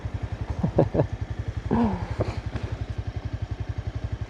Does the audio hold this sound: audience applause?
no